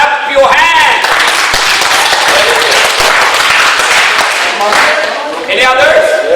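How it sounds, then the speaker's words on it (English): An audience at a teen workshop claps hands, a dense steady round of applause filling the whole stretch, with voices speaking over it at the start and end. "Mashallah, you can clap your hands."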